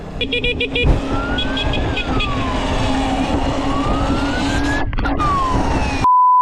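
A police siren wails and sweeps up and down amid traffic noise, with a brief burst of clattering near the start.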